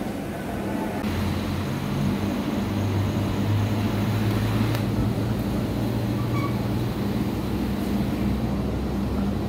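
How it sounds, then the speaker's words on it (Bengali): A local train pulling out of Santragachi bound for Digha: a steady, loud low rumble of wheels and carriages that rolls on without pause for the whole stretch, with no voices. "3 মিনিট লেট করে আমাদের ট্রেন ছাড়লো"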